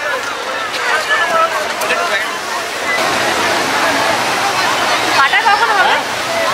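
Strong sea current and waves surge over the stone embankment at Digha beach, a loud, continuous rushing roar with a voice talking over it.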